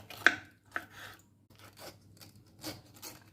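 A knife cuts through pineapple in a kitchen, producing several separate crisp slicing strokes with short scraping tails and quiet pauses between them.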